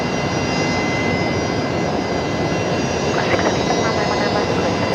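Virgin Australia Velocity 352 jet departing Brisbane Airport for Melbourne off runway 19 left, a steady broadband engine roar filling the whole stretch at constant loudness, with a voice briefly audible over it.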